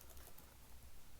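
Quiet, rapid clicking of a computer keyboard as code is typed during a Rust programming lecture, soft irregular taps over a hissy room background.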